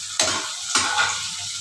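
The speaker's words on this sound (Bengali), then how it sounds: "এটা ভাজতে শুধু বসিয়েছি, এটা ভাজাটা এখনও ঠিক মতো হয়নি" Whole spices such as cumin and coriander fry in hot oil in a pan, giving a steady close sizzle with two sharp bursts as ingredients hit the oil, alone without talk.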